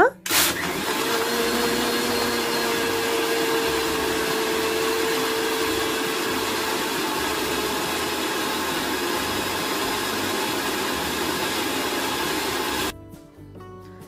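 Blender whirring loud and steady as it blends cold coffee with ice cubes, coffee powder and sugar, a continuous dense roar running for about thirteen seconds before cutting off abruptly.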